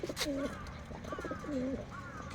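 Female red Dobaj pigeon cooing with a puffed throat, soft repeated coos near the listener at low volume, with faint background noise.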